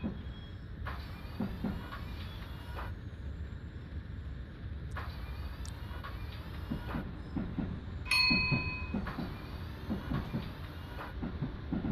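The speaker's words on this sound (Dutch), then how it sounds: "En zo rollen wij station Almelo in." A DM'90 Buffel diesel multiple unit rolls into Almelo station in Train Simulator, giving a steady low rumble with rail clicks and clatter, brief higher squeals and tones partway through, and no talk.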